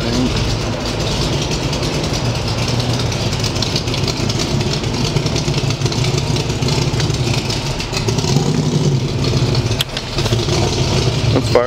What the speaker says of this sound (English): In the background, that is a Cobra that's moving.